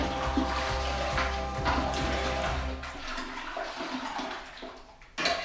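Running water pours around a homebrew pot of golden ale wort to cool it, a loud continuous gushing rush that thins and tapers near the end.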